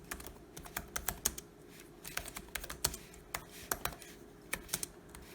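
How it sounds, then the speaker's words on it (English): Typing on the keyboard of a Lenovo Yoga 730 laptop: quick, irregular clacking keystrokes in short bursts, close and crisp over a quiet steady hum, with no talking. "There's a bit of a clackety-clack."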